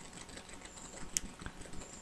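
Computer keyboard arrow keys being pressed, a few faint, isolated clicks against a quiet, soft background hiss.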